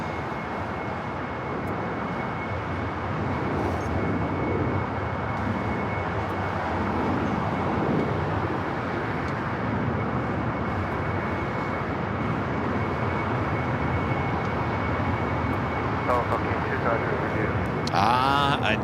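A Singapore Airlines airliner taking off on runway 24 left at Los Angeles International Airport, a steady, loud engine roar holding through the whole stretch, broad and unbroken, heard from a distance.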